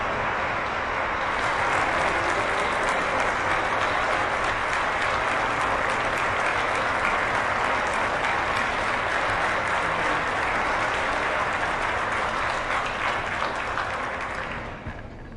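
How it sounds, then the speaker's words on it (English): Sustained applause from a large gathering fills the whole stretch, a dense, even wash of many hands clapping nonstop at close range that fades slightly near the end, with no talking over it. "everybody stayed there clapping nonstop for this man"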